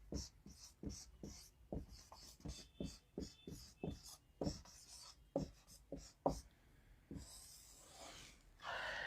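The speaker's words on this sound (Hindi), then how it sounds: "इसको थोड़ा नीचे ही लिख देते हैं।" Chalk or marker writing on a board during a Sanskrit grammar lesson, a series of quiet irregular taps and short strokes, close up with soft breathing and no talk, ending in a longer scraping rub.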